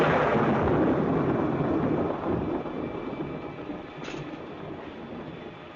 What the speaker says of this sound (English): another stormy weekend